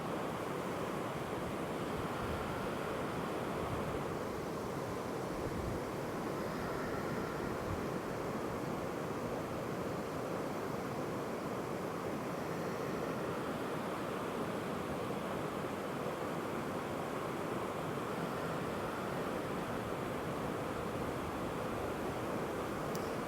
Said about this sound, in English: Just take in the sound of the creek in the background.